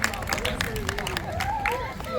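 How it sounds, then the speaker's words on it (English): A zoo audience at a sea lion show claps in scattered, moderate applause while a voice talks over it and a crowd murmurs in the background. "Can we give her all a big round of applause?"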